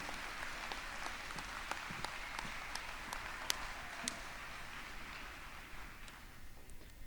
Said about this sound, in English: Please give a round of applause to Timothy, our salutatorian